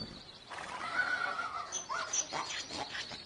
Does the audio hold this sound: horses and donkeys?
yes